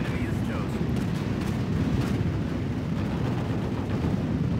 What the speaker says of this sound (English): Damn, your artillery's doing some serious damage.